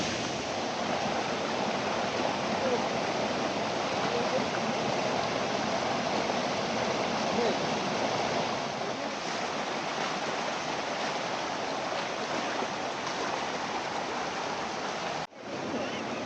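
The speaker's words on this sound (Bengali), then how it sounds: "ওই যে আপনারা ঝর্ণার ফ্লো দেখতে পাচ্ছেন।" A small waterfall, Rajai Jhorna near Tanguar Haor in Bangladesh, rushes continuously, a dense, steady wash of flowing water that fills the whole clip before a brief dip at the end.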